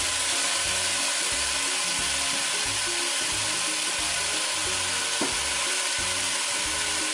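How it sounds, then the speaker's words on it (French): Meat and tripe frying in a pot for Nigerian okra soup, a steady, dense sizzle with a low rumbling churn running close and continuous throughout, no voices. "Dans une marmite, nous allons renverser la viande et les tripes"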